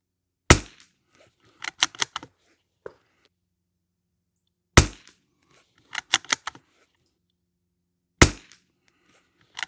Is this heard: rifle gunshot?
yes